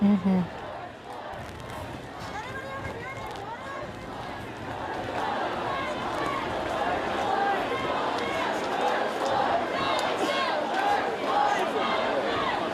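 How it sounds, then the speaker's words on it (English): A protest crowd in front of the Capitol in downtown Austin chants and shouts in a steady, dense roar that builds gradually, with closer voices talking over it. "you can hear the crowd in front of the Capitol chanting"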